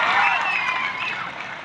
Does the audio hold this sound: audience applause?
yes